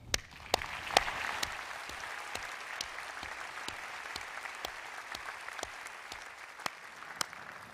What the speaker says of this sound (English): If I can give you a round of applause